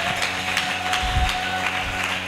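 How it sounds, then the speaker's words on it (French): A church congregation claps and cheers during a sermon, a full steady wash of applause with crowd noise and a low thump underneath. "Acclamons très fort."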